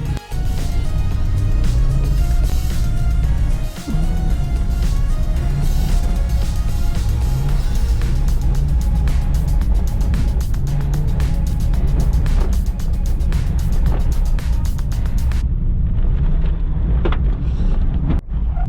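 A small car driving along a rough road that is half pavement and half sand, with a steady, loud engine and road rumble throughout and gusts of wind noise, cutting out near the end.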